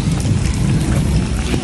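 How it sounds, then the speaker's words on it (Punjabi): Rain pours down in a loud, dense, continuous roar with deep rumbling underneath, steady across the brief stretch, with no voices. "ਅੱਜ ਬਾਰਿਸ਼ ਥੋੜ੍ਹੀ ਕੁ ਮੱਠੀ ਆ ਪਿਛਲੀ ਵਾਰੀ ਨਾਲੋਂ"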